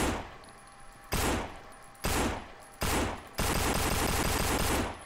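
Sustained bursts of gunfire from a Beretta pistol in the zombie shooter No More Room In Hell, four loud blasts of rapid shots with the last one running longest, no talking over them.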